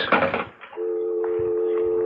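In a radio drama, a telephone handset rattles, then a steady dial tone hums with a few faint clicks of dialing over it, close and clear.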